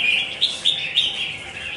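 Caged songbirds call with bright, high chirps and trills, several sharp bursts standing out over a continuous twittering, close and fairly loud.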